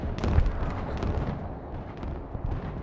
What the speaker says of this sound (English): There's some artillery coming in over here.